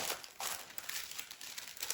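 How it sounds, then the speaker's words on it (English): Plastic packaging around a hair bundle being cut and crinkled open, close and fairly quiet, a continuous dry crackle with small bursts and no talking. "I think I'm gonna have to cut this plastic to get in here"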